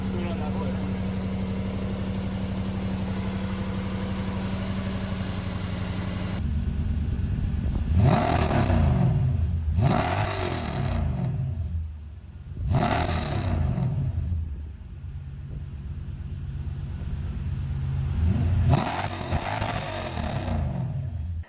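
A Lexus SC400, freshly converted to a five-speed manual with newly painted headers, idles steadily on its first startup, then revs sharply four times in separate bursts that swell and fall back to the idle.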